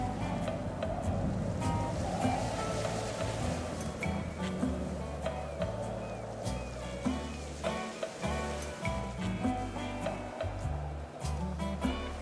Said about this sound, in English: The waves keep pushing the planks against the cliff.